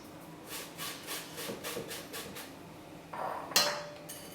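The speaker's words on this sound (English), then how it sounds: "just press it through with the spatula if you're impatient and there's lumps" Chocolate cake batter pressed through a sieve with a spatula, a series of soft rhythmic rubbing strokes followed by a brief louder scrape and metallic clink near the end.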